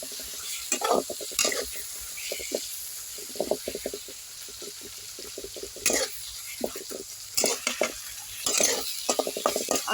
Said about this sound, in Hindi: बार बार चला के ना इस मसाला को अच्छी तरह से फ्राई कर लेनी है।